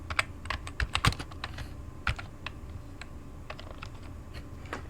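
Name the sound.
typing on a computer keyboard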